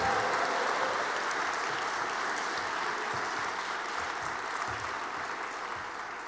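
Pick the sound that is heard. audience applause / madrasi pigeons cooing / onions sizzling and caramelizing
audience applause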